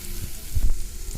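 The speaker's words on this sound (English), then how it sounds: "So now you added onion, curry leaf and coriander leaf. Nicely saute it well." Onion, curry leaf and coriander leaf sauté in a hot pan, giving a loud, close, steady sizzle with a few soft stirring bumps, no voices.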